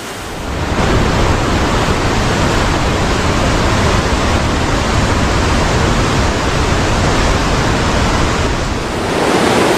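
Bhimkund waterfall in the monsoon, forceful water rushing and pounding, heard as a loud, steady broadband roar that holds unbroken from the first second to the end, with no voices.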